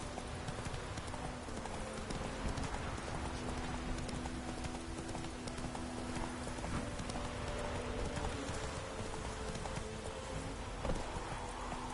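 Hooves of Roach, a horse in a video game, clip-clop steadily in a fast galloping rhythm throughout, with faint rain-like patter and background game sounds beneath.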